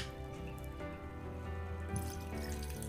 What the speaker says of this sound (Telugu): వెజిటబుల్స్ అన్నీ ఉడికిపోయాక చింతపండు పులుసుని ఇందులో పోసుకోవాలి